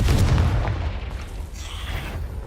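A Confringo blasting spell goes off in Hogwarts Legacy, a loud booming blast at the start that fades away over the next two seconds.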